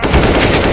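Rapid automatic gunfire bursts loudly and up close during a video game match, a dense, fast rattle of shots.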